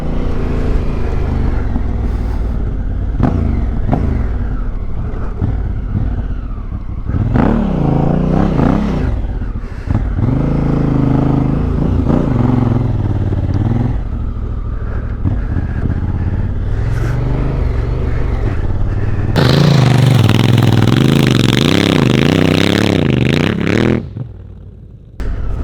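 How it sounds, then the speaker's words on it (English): Honda Africa Twin motorcycle ridden off-road over whoops, engine roaring and revving steadily with rising and falling pitch as it climbs the bumps, loud and close with wind rush, swelling louder near the end. "the bike felt smooth going up those whoops"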